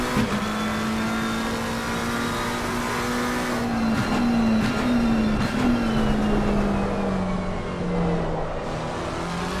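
McLaren race car engine at Zolder in Assetto Corsa Competizione, a loud steady onboard drone with its pitch rising and falling through a triple chicane, plus brief clattering kerb hits, with no talk.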